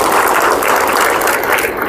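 Audience applause at an international academic conference in a formal hall, a dense, steady wash of clapping from a large crowd, loud and continuous throughout with no voices over it.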